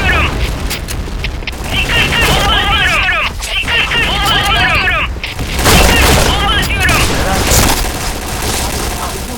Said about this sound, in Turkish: Dikkat, dikkat, bomba atıyorum!